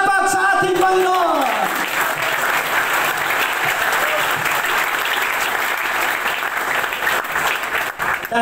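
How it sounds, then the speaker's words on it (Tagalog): A loud, sustained round of applause from a church conference congregation rises as a voice fades out at the start, then continues as a dense wash of crowd clapping to the end. "Isang masigabong palakpak sa ating Panginoon!"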